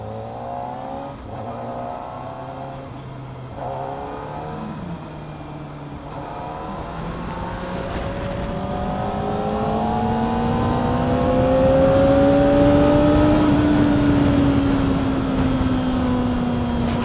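A superbike engine climbs through the revs while riding, a close, loud rising whine with clear harmonic tones that build steadily in pitch and volume with light wind noise.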